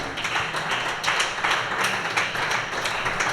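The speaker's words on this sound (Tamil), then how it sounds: "கையை தட்டுங்க." A church congregation clapping in unison during a Tamil-language worship service, giving a dense, steady, rhythmic patter of many hands in a reverberant hall.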